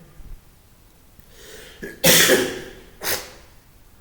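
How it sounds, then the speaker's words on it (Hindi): Two loud, breathy coughs, a second apart, close to the listener, after a few quiet seconds of faint room tone. "थोड़ा खांसी हो गया है"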